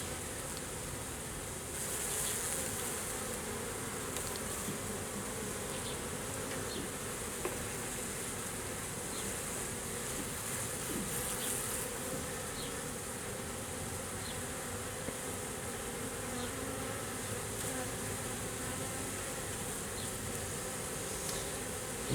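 A honey bee swarm is being brushed into a hive, and its steady, dense buzzing drones on for the whole stretch at a fairly even level, with individual bees zipping past now and then.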